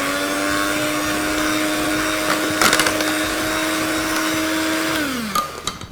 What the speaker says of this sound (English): Can you see I'm not even using the mixer completely at this point.